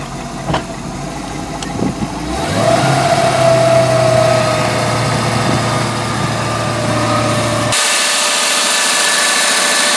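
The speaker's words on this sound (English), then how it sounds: "Let's see if the timing advances when I give it some throttle." An OMC 230 stringer engine on a 1981 Sea Ray SRV200 boat runs steadily, then its pitch and loudness climb as the throttle opens and it holds a higher rev, with no talking.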